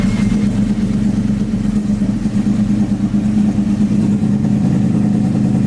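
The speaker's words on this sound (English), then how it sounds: "Flip the kill switch, turn on the ignition, and start her up." A cold Yamaha sport motorcycle engine idles after starting, a loud, steady, throbbing hum that holds an even pitch close to the bike with no voices.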